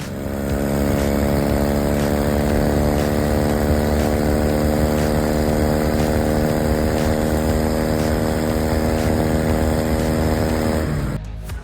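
A homemade vehicle powered by a 19.5 horsepower opposed-twin Briggs engine with a Peerless six-gear transmission runs at a steady, loud, buzzing drone close by for about eleven seconds before cutting off abruptly.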